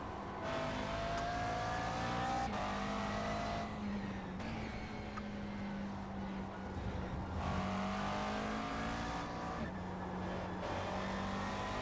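An ACR GT3 race car at Lime Rock drones loudly in-car with a steady engine tone, rising and falling through repeated gear changes, alone without talk.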